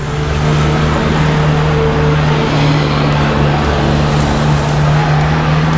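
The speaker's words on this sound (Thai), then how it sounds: "รถแลนไปแลนมานะครับต้องขออภัยนะครับที่มีเสียง" Cars and other road traffic passing along a roadside, a continuous loud engine drone with a steady low hum running throughout, with no speech.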